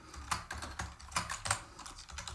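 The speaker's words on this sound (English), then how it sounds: "Sometimes my typing gets a little overzealous, as you can tell." Fast, uneven typing on a computer keyboard while writing code, the key clicks close and crisp in quick bursts with no talking.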